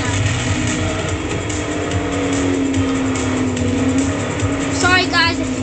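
Bentley hypercar engine racing in Forza Horizon 4, a steady droning engine note with shifting pitch and a brief rev near the end, heard under ongoing talk.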